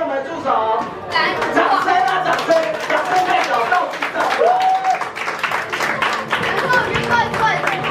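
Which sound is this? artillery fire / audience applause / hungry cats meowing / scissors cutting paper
audience applause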